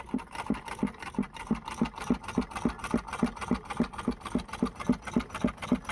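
A sewing machine runs steadily while stitching around the neckline of a peplum kurti bodice, its needle thumping in a fast, even rhythm close up.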